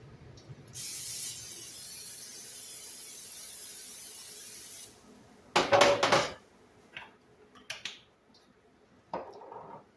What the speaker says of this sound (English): I'm going to spray my 8x8 pan.